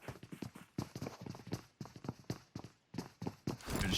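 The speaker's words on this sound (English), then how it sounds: "Did they hear the footsteps?" Quick, close footsteps in the battle royale game PUBG Mobile during an esports match, with a rapid run of thuds that pause briefly and then resume, ending in a louder burst of noise.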